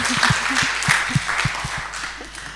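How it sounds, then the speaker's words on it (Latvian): Congregation applauding fathers at a Father's Day church service in Ventspils, a short burst of clapping with a few low voices murmuring beneath it. "Tie, kas ir tēvi, tad jums aplausi un sveicieni šodien."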